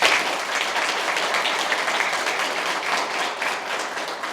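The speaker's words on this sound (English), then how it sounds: "Give them a round of applause" Crowd applause at a fire department cadet graduation, brisk continuous clapping from many hands, loud and dense from start to finish with no talk over it.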